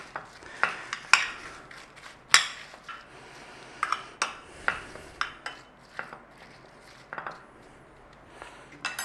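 A spoon stirs sugar into sliced apples in a bowl, giving quiet, irregular clinks and scrapes against the bowl with soft pauses between strokes.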